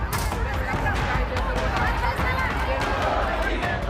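Hundreds of people gathered on a Dadar street in Mumbai during the morning rush hour, shouting slogans in a protest; a steady, dense roar of crowd noise with overlapping shouts and commotion runs throughout.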